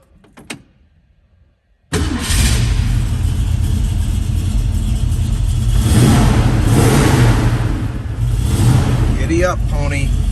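A 1965 Ford Mustang engine cranks and catches after a brief quiet moment, then settles into a loud, close, rumbling idle with a few rising revs, while someone talks over it.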